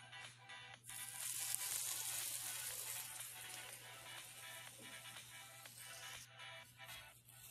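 Squash blossom quesadillas made with masa sizzle steadily in hot oil, a loud continuous crackling hiss that swells early on and stays close throughout, with no talking.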